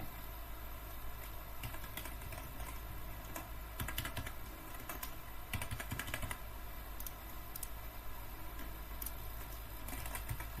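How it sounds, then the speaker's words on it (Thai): Typing on a computer keyboard while entering an email address and account details into a Python project form, with scattered bursts of key clicks over a steady low hum, fairly close and moderately quiet, with no talking. "ผมก็พิมพ์อีเมลอะไรก็ได้"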